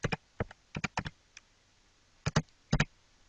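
Several short bursts of keystrokes on a computer keyboard, clustered in quick groups separated by pauses, close and fairly crisp with no talking.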